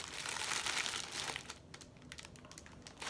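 Amazon packaging around a box of 18-dart blaster magazines is cut and pulled open, giving soft, close, crinkling rustles. The noise is fuller at first, then thins into scattered crackles, quiet overall with no talking.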